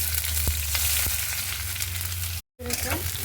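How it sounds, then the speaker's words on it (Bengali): Dried red chillies, white cumin, bay leaf and chopped onion frying in hot oil, a loud steady sizzle close by with a few stirring knocks and a brief cut near the end. "প্রথমে দেবো শুকনো লঙ্কা, দেবো সাদা জিরে, তেজপাতা, দিয়ে দেবো পেঁয়াজ কুচি"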